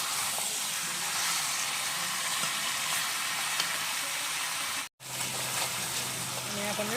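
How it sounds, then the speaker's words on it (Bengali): Meat being stirred and fried in a pan for a Bengali-style meat curry, with steady sizzling and stirring throughout and a brief silent break near the end. "নেড়ে ফেলে ভালো করে কষিয়ে নেব"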